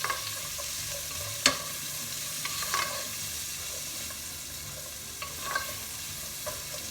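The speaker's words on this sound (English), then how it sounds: "Stir it around a little bit." Sweet peppers and carrots sizzle steadily in a hot pan as they are stirred, with a few sharp clicks and scrapes of the utensil against the pan.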